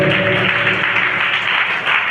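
A church congregation claps loudly and steadily during a baptism service, a dense, continuous wash of applause that holds at full strength without a break.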